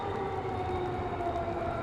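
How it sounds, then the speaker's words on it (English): Tornado warning sirens wail across downtown Nashville in a steady, sustained tone that slowly sags in pitch, carrying from a distance over constant background noise. "Again, you can hear the tornado sirens sounding downtown right now."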